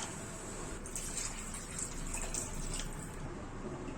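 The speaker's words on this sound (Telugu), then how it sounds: "కూరగాయలన్నీ ఉడికిపోయిన తర్వాత మనం 2 కప్స్ వాటర్ పోసుకుందాం." Two cups of water poured onto fully cooked vegetables in a pot while making pasta, a steady close splashing stream that runs for about three seconds and then stops.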